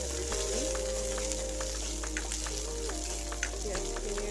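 Onions and green chillies frying in fish oil in a kadai, a steady close crackling sizzle with scattered pops running throughout, no talk.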